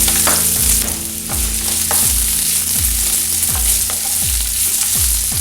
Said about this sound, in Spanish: En la misma sartén voy a añadir la cebolla.